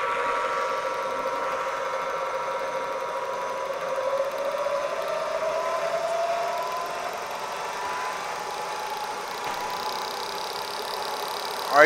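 Supermax YCM-16VS vertical milling machine head spinning up, a steady mechanical hum and whine whose pitch drifts upward as the spindle reaches speed, moderately loud and close, with no talk.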